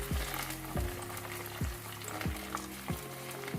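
Tomato paste sizzles steadily in a frying pan while being stirred, with a repeated rhythmic scrape of the spoon roughly every second, moderately quiet and close with no talking.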